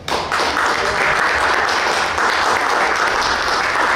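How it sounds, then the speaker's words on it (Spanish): Sustained audience applause at a literary horror gathering, dense and steady clapping filling the room for the whole stretch without a break. "quiero por favor un fuerte aplauso para nuestra anfitriona"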